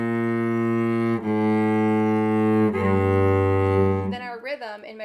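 Cello playing measure 49 of a piece, a few long sustained bowed notes with clean changes between them, close and full, followed briefly by a voice at the end.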